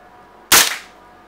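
A single sharp, close shot from a WE M4 open-bolt gas blowback airsoft rifle fired during a velocity test, a loud crack that decays quickly into quiet.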